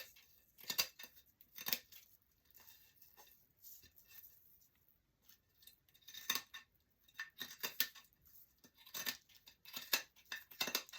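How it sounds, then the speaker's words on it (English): Scissors snipping away excess stiff lace fabric, glued with Mod Podge, around the rim of a Dollar Tree dinner plate, faint close crisp cuts in irregular clusters with quiet pauses between them. "So you're going to cut off your excess fabric around your plate."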